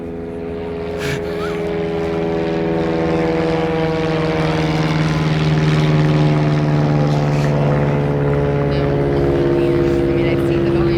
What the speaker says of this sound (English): I hear airplane.